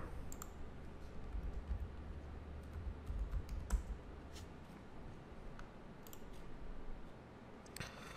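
Someone types on a computer keyboard, producing quiet, irregular key clicks over a low background hum, with a few sharper taps near the end.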